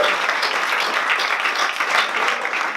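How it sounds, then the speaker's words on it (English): Steady applause from an audience, a dense wash of many hands clapping continuously throughout. "A round of applause for those 10 guys,"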